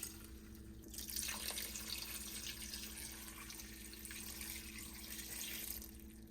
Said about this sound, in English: Then you need 2 cans of the chicken broth. So we're just going to pour that right over the top.